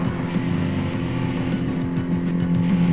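A race car in the video game Tokyo Xtreme Racer overtaking another car, a steady loud engine drone with shifting tone and road noise throughout, no talk over it.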